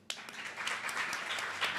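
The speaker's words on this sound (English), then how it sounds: "a big round of applause for all of our panellists" An audience at an evening panel event on Indigenous women in screen breaks into applause, a dense burst of many hands clapping that starts abruptly and holds steady at moderate distance.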